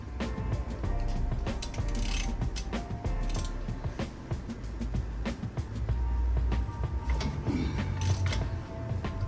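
Ratchet wrench loosening a set screw and bolts to pull the rear shock from a Harley-Davidson Low Rider S motorcycle, rapid clicking pawl bursts with creaks, close and moderately loud, no talk.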